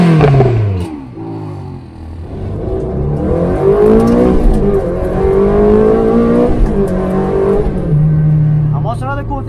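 A 2004 Ferrari 360 Challenge Stradale V8 revs hard through its factory race exhaust, climbing and falling in pitch through gear changes, loud and close from inside the car, with someone talking over it.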